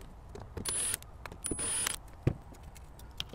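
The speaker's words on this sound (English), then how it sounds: "We're going to remove these two Phillips screws." Phillips screws being backed out of a Festa AMG radon fan housing, with two sustained whirring bursts like a powered screwdriver, separated by small clicks and a sharp knock, close and fairly quiet.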